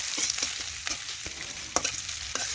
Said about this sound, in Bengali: পেঁয়াজ একটু ভালোভাবে লাল লাল করে ভেজে নিচ্ছি।